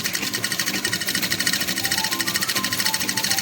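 An electric sewing machine stitches fabric for a door curtain, running in a fast, even mechanical rattle that stays loud and constant throughout.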